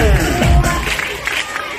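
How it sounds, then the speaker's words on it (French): A crowd at a live event cheers and shouts with scattered applause, a loud, brief burst of mixed voices close by that fades slightly toward the end. "on peut applaudir plus fort que ça"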